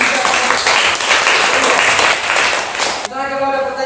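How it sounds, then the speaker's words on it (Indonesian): A classroom audience applauds a student writer after a group presentation: about three seconds of steady, close clapping that cuts off abruptly as a voice begins speaking. "kita berikan dulu tepuk tangan kepada penulis"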